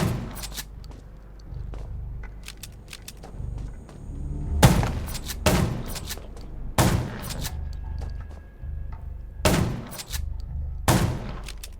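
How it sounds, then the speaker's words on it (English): Gunfire in the zombie survival video game Undawn: several sharp, loud shots and short bursts go off at irregular intervals against quiet background ambience, with no talking between them. "Gunshots will attract more."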